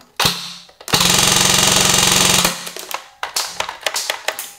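Airsoft replica firing a rapid sustained burst of BBs until the magazine runs dry and it stops, loud and close, with scattered clicks and mechanical handling noises before and after.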